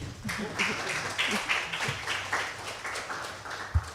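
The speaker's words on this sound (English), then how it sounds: "Maybe please give a random applause" Sparse, scattered clapping from a small lecture audience, a handful of uneven hand claps at moderate volume with a slight murmur underneath.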